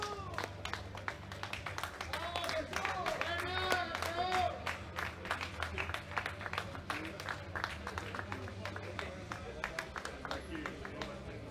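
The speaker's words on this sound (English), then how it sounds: "Give them a round of applause, ladies and gentlemen, as they leave the platform" Audience applause at the World Classic Powerlifting Championships 2021 as lifters leave the platform, a steady crowd clapping in a large hall under an announcer's amplified voice, with sharp individual claps standing out.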